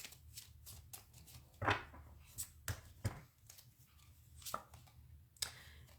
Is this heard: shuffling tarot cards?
yes